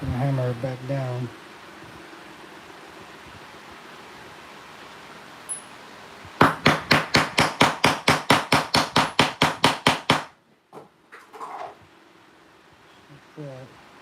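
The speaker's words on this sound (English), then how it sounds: "gonna hammer it back down." A lump is hammered back down with a steady, rapid series of about fifteen sharp metallic strikes, loud and close, preceded by a brief stretch of talk and low background noise.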